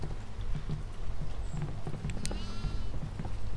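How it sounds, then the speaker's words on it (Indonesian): A goat bleats in the horror game Devour, a short wavering cry amid faint hoof-like clops and scattered thumps, moderately close in a quiet ambience. "Itu ada kambing tuh."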